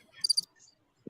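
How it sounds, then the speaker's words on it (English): Crickets chirping as a sound effect: a short cluster of three or four high, bright trills, close and clear, then quiet. "Just crickets. It's crickets."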